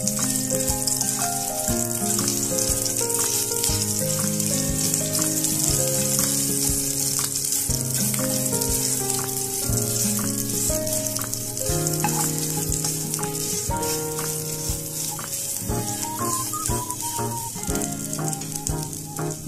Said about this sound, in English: Now I add little oil. Put the red curry paste, 1 teaspoon.